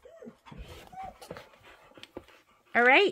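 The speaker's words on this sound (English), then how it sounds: "Lots of heavy breathing in here." A dog pants close by in a sewing and vacuum shop, with quick breaths and small whimpers under a person talking. A loud whine-like yelp ends it.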